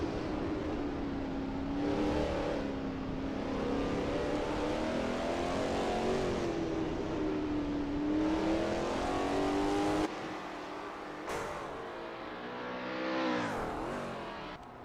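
Lola T70 MkII Spyder race car engine roaring at Spa in a racing video game, a steady loud drone rising and falling with gear changes and revs, alone with no talk.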